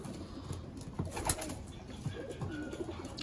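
Racing pigeons coo softly inside a loft housing young birds and stock birds, with occasional wing flaps amid steady low background noise.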